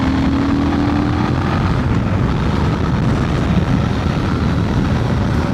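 A Honda Transalp 750 (2025) adventure motorcycle in sport mode roars as the throttle opens, its engine note climbing briefly before holding a loud, steady drone mixed with wind rush, no voices.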